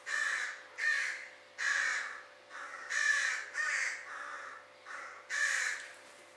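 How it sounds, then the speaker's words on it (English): Outdoors, a crow caws eight times in a loose, regular rhythm, each harsh call clear and fairly close, with quiet gaps between them and no talking. "Is that the mating call of that type of bird?"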